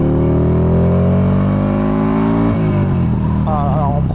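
A Buell XB12S motorcycle accelerates hard in first gear, its loud V-twin engine rising steadily in pitch, then easing briefly before revving again, very close and dominant.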